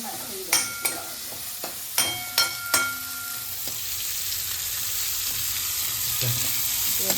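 Onions sauté in oil for a vegetable rice dish: a few sharp metal clinks of a spoon against the pot come first, then a steady, rising sizzle carries on alone.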